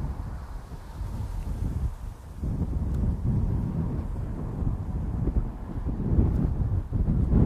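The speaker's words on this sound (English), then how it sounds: "There's a really big gust coming." Strong wind gusting across open water on a lake during a bass fishing outing, a loud continuous low roar and buffeting that swells and surges throughout with no talking.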